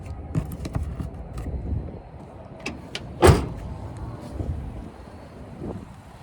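A storage tray lid in the bed of a 2026 Honda Ridgeline TrailSport AWD pickup is opened, giving a single sharp latch-and-lid clunk midway, with softer handling knocks around it outdoors in light wind.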